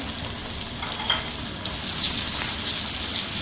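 Fresh ginger garlic paste sizzles and fries steadily with light golden onions in a pan, a continuous close crackle with faint stirring scrapes.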